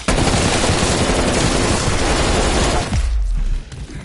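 Sustained automatic gunfire in Call of Duty Cold War, a loud, dense rattle of rapid shots lasting about three seconds, then cutting off into a low rumbling boom that fades away; no voices.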